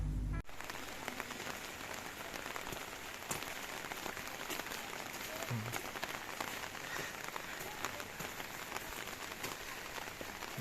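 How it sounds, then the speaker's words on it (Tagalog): Steady rain pours outdoors in a rural trapping spot, a dense continuous hiss of drops striking the ground and nearby surfaces with occasional louder splats, constant in level throughout. "Ulan na gyud."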